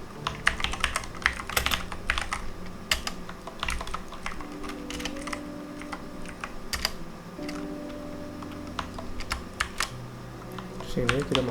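Computer keyboard typing while entering program input for a data-entry coding exercise, with dense, steady keystrokes and frequent clicks running throughout, close and clear, joined by faint tonal beeps and low background hum.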